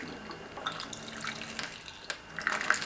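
Freshly boiled water pours from a water-dispensing machine into a cup in a home kitchen, a soft trickling stream with a few brighter splashes and drips toward the end.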